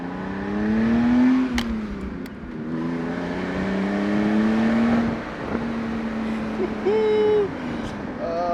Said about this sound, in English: I'm so glad I cut my muffler off. It just sounds so much more aggressive. It's deep, which I like.